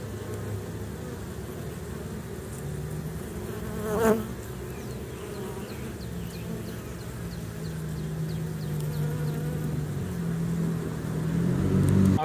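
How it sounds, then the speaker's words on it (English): A dense, continuous buzz of a honey bee swarm close by, with a brief louder burst partway through and a low rumble building toward the end. "I'm pretty sure I have most of the bees in this box."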